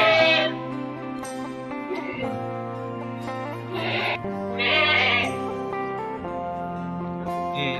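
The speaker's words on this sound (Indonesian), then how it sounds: "Ini kambingnya guys." Etawa (PE) goats bleating on a farm, several loud cries repeating in overlapping bursts through the stretch over a steady, busy background.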